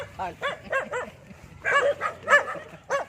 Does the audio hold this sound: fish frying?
no